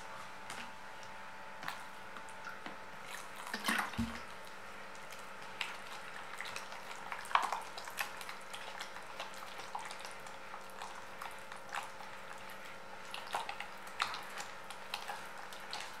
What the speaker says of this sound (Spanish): Vamos mezclando a poco. Siempre vayan agregándole de a poco el agua